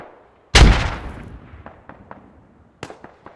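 Mortar impact in the military shooter game Squad: one loud, booming blast that rolls away into a long rumble, followed by scattered sharp distant cracks of gunfire.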